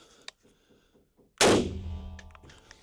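A single sharp rifle shot from a PWS UXR rings out loud and close, its blast decaying over about a second, with a few faint mechanical clicks before and after.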